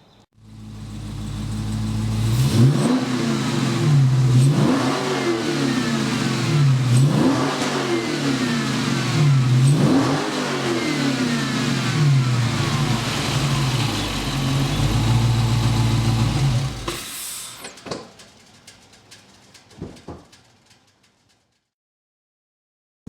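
A Dodge Hellcat with a newly installed airbox revs hard several times in rising, roaring sweeps, then holds a loud, steady engine roar before cutting off abruptly to a faint idle and silence, with no talking.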